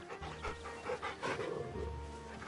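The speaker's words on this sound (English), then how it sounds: "Oh, you get to pet the dog." Torgal, a dog in Final Fantasy 16, pants softly and rhythmically while being petted, a quiet run of breathy huffs with faint game ambience behind.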